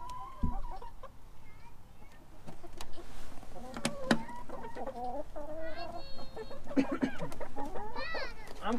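Backyard hens cluck and murmur close by in a winter coop, with a wavering run of calls building toward the end, while a person talks over them.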